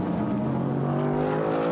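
An HTP Motorsport Mercedes GT race car at Paul Ricard during Blancpain GT Sports Club free practice, its engine a steady, loud roar with a droning harmonic tone as it runs through the chicane.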